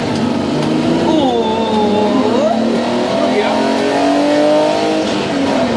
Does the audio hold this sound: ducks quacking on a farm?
no